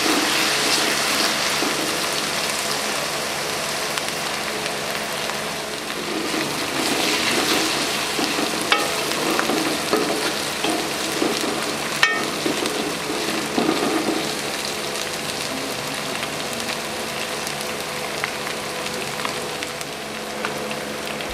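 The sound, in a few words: ginger and garlic frying in a pan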